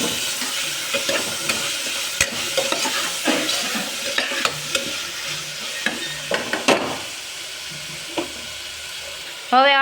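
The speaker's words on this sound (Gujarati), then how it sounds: "હવે આપણે બધું જ મિક્સ કરી લઈશું બે મિનિટ સુધી આપણે હલાવશું" A Gujarati flat bean and muthiya curry being stirred in a sizzling frying pan, with steady scraping and occasional sharp clinks of a spoon against the pan.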